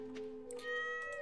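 A cat in the Stardew Valley video game gives one short, clear, close meow with a rising then falling tone, alone and lasting about a second.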